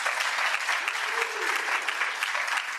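A round of applause for healthcare workers, a dense continuous crowd clapping that stays loud and even throughout, with no talk.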